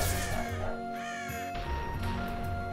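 Crows caw repeatedly in the Touhou Scarlet Curiosity video game, their harsh calls layered over game music and effects, close and fairly loud throughout.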